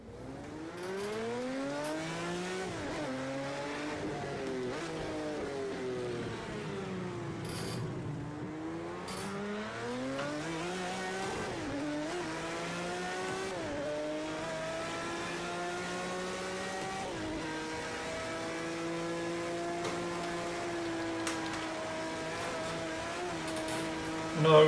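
A Jaguar XJR-9 race car in Project Cars 2 at the historic Spa circuit, its engine revving up and down steadily through paddle-shifted gear changes, loud and continuous throughout.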